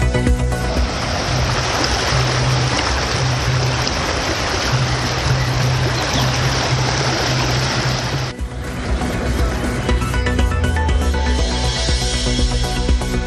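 The flooded Thamirabarani river in Tirunelveli district rushes after heavy rain, making a loud, continuous roar of churning water up close. The texture shifts slightly partway through but never lets up.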